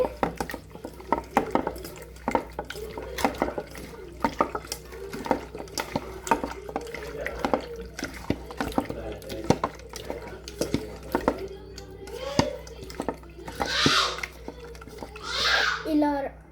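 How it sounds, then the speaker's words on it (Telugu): Chicken curry with spices being stirred in a pot, a spoon knocking and scraping against the metal in a steady rhythm, close by, with faint talk and clattering dishes in the background. "వేసుకున్న తర్వాత మనం మిక్స్ చేసుకోవాలి."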